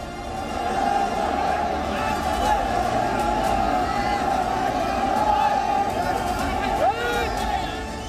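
A huge crowd of devotees at the Ayodhya Ram Mandir, a steady dense roar of many voices and shouting that carries on throughout without pause.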